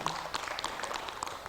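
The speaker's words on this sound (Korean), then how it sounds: "박수 보내주시죠." Faint, scattered applause from a lecture audience at a marketing talk: a short patter of claps, thin and distant, that fades quickly.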